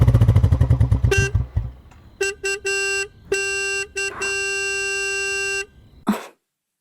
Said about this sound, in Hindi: देखो कोई बाहर हॉर्न बजा रहा है।